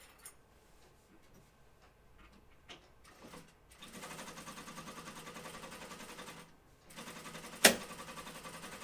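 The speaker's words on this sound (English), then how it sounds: "let's do the top stitching on these" A home sewing machine top-stitches a flight suit in two steady runs of rapid rhythmic ticking, close and moderately loud, separated by a short pause, with a sharp click near the end.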